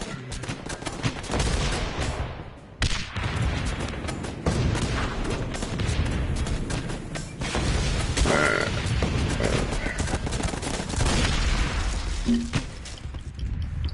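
Grenade launcher fire and explosions in a PS4 video game form a dense, continuous barrage of booms and gunfire, loud and close throughout with no talking.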